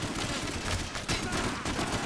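Dense video-game gunfire rattles out in a rapid, sustained burst, loud and continuous with little pause between shots.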